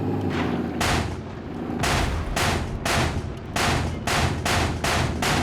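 A shooting video game fires rapid gunfire bursts, about eight loud, sharp volleys in an uneven rhythm, up close and unaccompanied by talk.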